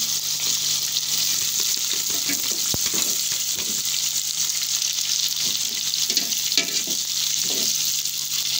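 Garlic and onion sizzle steadily in a hot pan with occasional stirring scrapes and clinks, a constant hiss close by.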